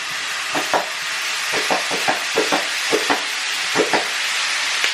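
Chicken coated in garlic paste fries in a pan over a high flame, a steady close sizzle broken by repeated short scraping or stirring knocks at an uneven rhythm, with no talking.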